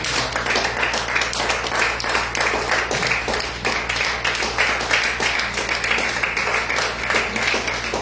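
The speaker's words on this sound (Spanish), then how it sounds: "Denle un fuerte aplauso a Cristo." A church congregation claps loudly and rhythmically in praise, a strong, regular beat of many hands repeating steadily for several seconds over a constant low hum.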